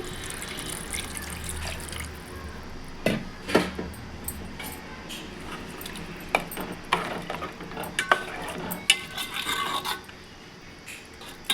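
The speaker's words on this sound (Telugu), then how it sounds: "గరిటతో బాగా కలుపుకోండి" A metal ladle scrapes and clinks against a pot as it stirs a tamarind-based curry with chili powder, with irregular knocks and taps over a steady wet, bubbling background and no speech.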